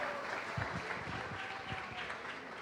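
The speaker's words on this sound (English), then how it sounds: "Come on, clap." Audience applause for a company founder being welcomed on stage at a student event, steady mid-level clapping with a few louder claps throughout.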